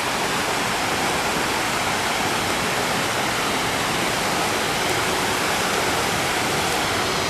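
Rushing river water in New River Gorge National Park, a loud, constant broadband roar of churning current that fills the whole stretch evenly, close by, with no voices over it.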